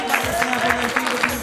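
A church audience claps in a brief burst of applause while a voice speaks over it.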